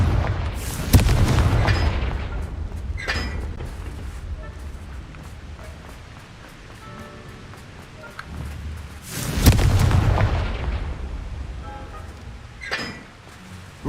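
Confringo fire-spell explosions in the Hogwarts Legacy video game, two loud booming blasts several seconds apart with rumbling tails and smaller pops in between, with a spoken voice at times.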